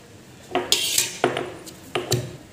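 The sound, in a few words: pounding cumin and black pepper in a pot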